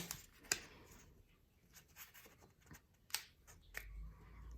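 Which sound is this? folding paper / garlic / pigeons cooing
folding paper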